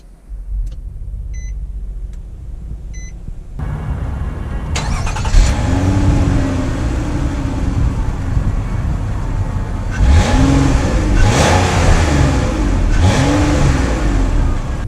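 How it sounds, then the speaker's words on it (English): A 2019 Nissan Murano Platinum SUV pulls away and accelerates, its engine rising in rising and falling rev sweeps after a quiet start with faint chimes, the tone steady and close from the cabin. "We are setting off here now in the 2019 Murano"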